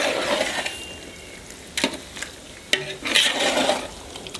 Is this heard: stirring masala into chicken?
yes